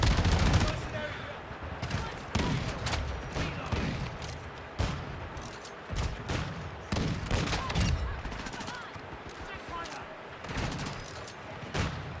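Call of Duty gunfight with repeated bursts of close automatic gunfire and heavy thumping impacts, someone talking over much of the shooting throughout.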